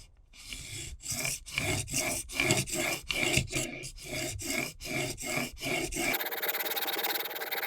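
A wood plane blade is sharpened on a 500 grit Shapton whetstone with about a dozen rhythmic rasping strokes back and forth, close and steady, followed by a brief stretch of flat hiss.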